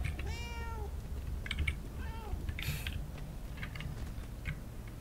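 A cat meows twice in the video game Murdered: Soul Suspect, inside a church level: two short, plaintive cries, close and clear, over a steady low game ambience with faint ticking.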